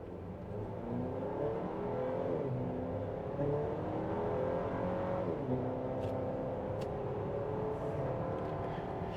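A 2024 Chevrolet Traverse AWD RS engine drones steadily from inside the cabin while accelerating, its pitch climbing through gear shifts in a continuous, moderately loud whir, with a few faint clicks near the end.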